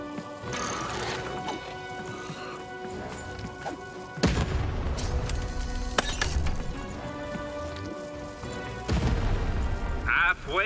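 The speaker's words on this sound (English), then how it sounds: "Shoot the button to fire the cannon." Cannon blasts in the video game Lost in Random, two heavy booming shots with rumbling tails over a continuous game music and ambience bed, loud and close.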